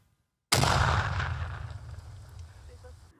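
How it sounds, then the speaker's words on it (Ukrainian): After a moment of silence, a single heavy blast booms out as sappers detonate explosives found in a field, rumbling away over a few seconds as the echo fades. "Під кінець дня сапери, які працюють разом з групою, підривають знайдену у полі вибухівку."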